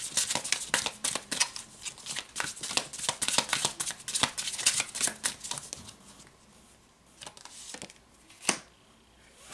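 Tarot cards are shuffled by hand in quick papery riffles and flutters for about six seconds, then a few single slaps and taps, close and fairly quiet, with no talking.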